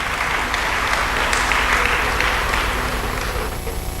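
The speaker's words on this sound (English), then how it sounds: "A round of applause once again," Sustained applause from an audience at an annual research institute meeting, steady dense clapping that fills the room for several seconds before easing slightly at the end.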